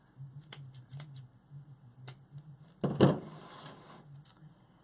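Scissors trimming wreath material for a pine tree themed Christmas wreath, close crisp snips in quick irregular clusters, with one louder rustling cut midway.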